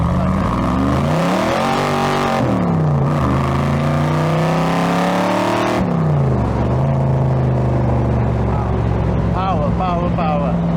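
A light racing car on slicks revs hard and accelerates, a loud sustained engine roar with rising and falling pitch, one sharp throttle dip midway, and voices heard faintly under it.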